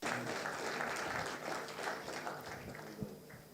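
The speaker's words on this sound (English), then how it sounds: "Applause for her." Conference audience applauding steadily, a dense wash of clapping that holds at an even level before easing off slightly near the end, with no talk over it.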